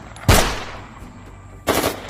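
Two sharp, loud bursts of gunfire about a second and a half apart, each a close crack with a short decaying tail over quiet background noise.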